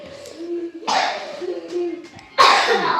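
Two harsh, close coughs, the second louder, separated by quieter vocal sounds.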